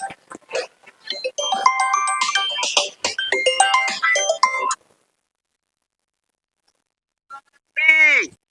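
A mobile phone ringtone plays in a burst of bright melodic tones for a few seconds, then falls silent, with a brief chime returning near the end.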